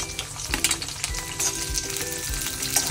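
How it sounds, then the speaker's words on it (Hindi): Garlic and onion frying in hot oil for a chutney, a steady close sizzle and crackle with occasional scraping stirs, no voices. "फिर हम डालेंगे प्याज।"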